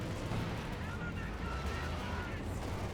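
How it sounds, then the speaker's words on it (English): Katyusha rocket barrage in Company of Heroes 2, a dense continuous rumble of artillery fire with low booming energy throughout, mixed with battlefield noise and talk over it. "Katusha Barrage right here is very successful on the MG42."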